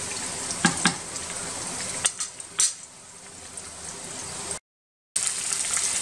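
Spices temper in hot oil for masoor dal with jute leaves, a steady close sizzle and crackle with a few sharp pops and utensil clinks, broken by a brief gap of silence before the frying resumes.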